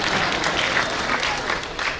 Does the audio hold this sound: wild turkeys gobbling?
no